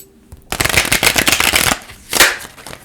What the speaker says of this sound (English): we're going to give it 3 good shuffles